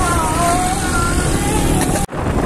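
Motorcycle ridden along a village road in hot weather, its engine a steady close drone with rushing wind noise that cuts off abruptly near the end.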